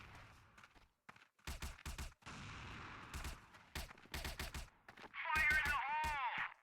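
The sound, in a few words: gunfire in the video game CrossFire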